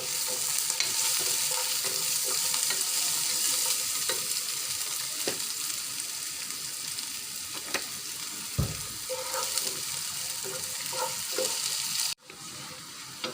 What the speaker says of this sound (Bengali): শুকনো মরিচ, দিয়ে দেবো পরিমাণ মতো পেঁয়াজ কুচি। এটাকে আমি নেড়ে ছেড়ে ব্রাউন হয়ে গেলে মাংসটা ঢেলে দেব